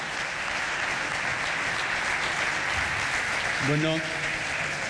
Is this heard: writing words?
no